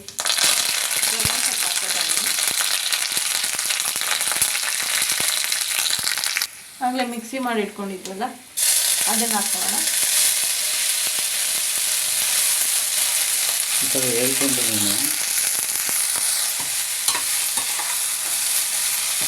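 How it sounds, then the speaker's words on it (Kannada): Hill gooseberry chitranna masala fries in a pan with a loud, constant hiss, while someone speaks briefly over it. "ಈಗ ಇದನ್ನು ಸ್ವಲ್ಪ ಫ್ರೈ ಮಾಡ್ಕೊಳ್ಳೋಣ"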